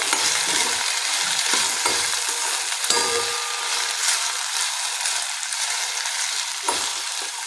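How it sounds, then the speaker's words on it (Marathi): Mixed vegetables stir-fried in an open pan over medium heat, a steady broadband sizzle with repeated scraping and clinking of a spoon against the pan, continuous and close with no talking. "आता आपण याचं झाकण उघडूया आणि याला परतून बघूया"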